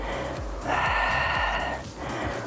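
A single forceful exhale during a pulling exercise at an outdoor gym in Millennium Park: a short breathy rush of air that rises and fades within about a second, close and alone.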